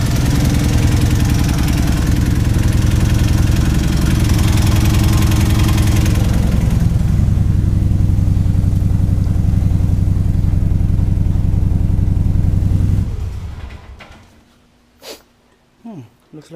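A Subaru WRX engine running with a misfire, a loud steady rumbling idle with uneven low pulsing for about thirteen seconds before it shuts down, followed by a few faint clunks and near silence.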